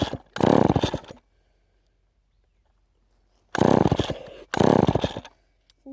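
A rebuilt chainsaw being pull-started fires up in three loud, harsh bursts, each sputtering and dying within about a second, with quiet pauses between attempts.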